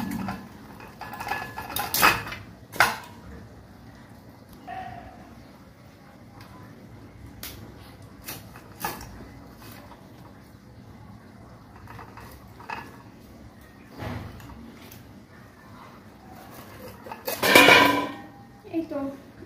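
A large fish being cut up on a kitchen board, with intermittent knocks and chops spaced irregularly, a few louder strikes standing out, close and fairly quiet; no talk over it.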